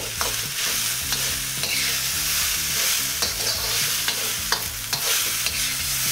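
Rice with raisins and ketchup is stir-fried in a hot pan, giving a continuous sizzle broken by repeated scraping and tossing strokes of the spatula, close and clear, with no voices.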